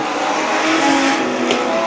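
Legend race cars roar down the back straight near the end of a 35-lap Gold Cup feature, a loud, steady wall of engine noise with a faint tyre squeal, no talk in the moment.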